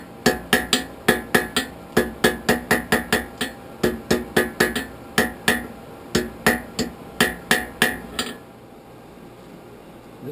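A hammer strikes hot steel on an anvil while forge welding a twisted poker handle, a steady run of about twenty ringing, evenly spaced blows, loud and close, before the hammering stops and a low hum remains.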